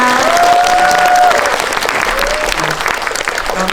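A large theatre audience at a Korean film special screening claps steadily and loudly throughout, a dense wash of applause with crowd murmur underneath.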